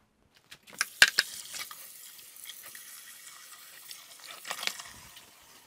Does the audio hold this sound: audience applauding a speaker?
no